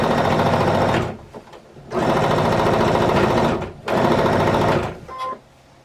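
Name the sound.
sewing machine sewing jelly roll quilt block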